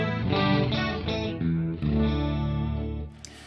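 Electric guitar through a Fractal FM3 effects unit on its first scene preset, thick distorted chords ringing out with a shimmering chorus-like wash, loud and sustained, a few strums fading near the end.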